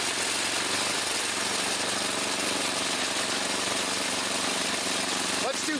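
A 22-year-old Craftsman 30-inch riding mower engine runs steadily in sixth gear, a loud, constant mid-pitched idle-like drone with no break, ending with a brief clatter.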